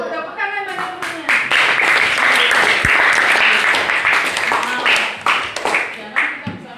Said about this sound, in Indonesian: Tepuk tangan bagi temannya